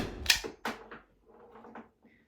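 A Byrna LE launcher firing a single shot indoors: a sharp, close crack followed by a brief clatter and rattle of the mechanism, then a fading trail.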